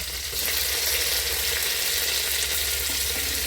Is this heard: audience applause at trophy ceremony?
no